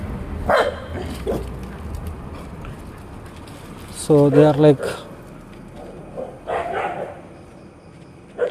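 Stray dogs in Kochi bark in short bursts, one loud close volley of several barks in the middle and scattered fainter barks around it, while someone talks over and between them.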